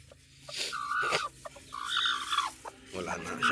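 A black mother hen clucks in short, uneven bursts while being picked up and handled near her small chicks, close and moderately loud, with a person talking softly in between.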